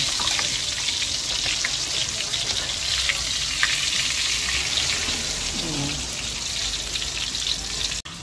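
Fish frying in hot oil, a dense, loud, continuous sizzle and crackle close by, steady throughout with a faint clatter near the end and no clear talking.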